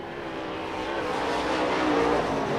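Race cars roar around the dirt oval at Central Arizona Raceway in Casa Grande, Arizona, at the finish of a race. A steady, loud engine drone builds slightly as the field sweeps through the final turns.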